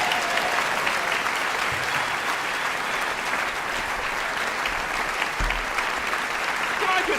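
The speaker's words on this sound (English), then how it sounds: "Round of applause." A small audience in a piano showroom claps steadily, a continuous wash of many hands that holds at an even level throughout, moderately loud and fairly close, with faint murmurs and a few low bumps underneath.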